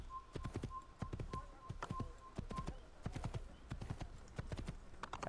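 Horse hooves clip-clop in a fast, steady galloping rhythm in the video game Assassin's Creed, close and continuous, with a faint tonal whistle in the background.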